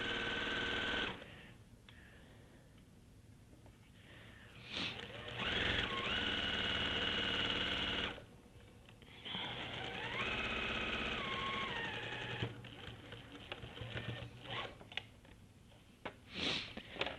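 A sewing machine stitching fabric in bursts a few seconds long, a steady mechanical rattle that starts and stops. Quiet gaps and handling noises fall between the runs.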